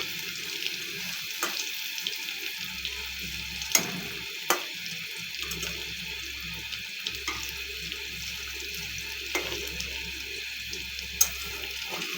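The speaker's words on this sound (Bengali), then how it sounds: "ভাজা হয়ে গেছে, এখন তুলে রাখবো।" Pui shak (Malabar spinach) fritters with dried fish fry in hot oil, giving a steady close sizzling hiss broken by scattered sharp pops, with no talking.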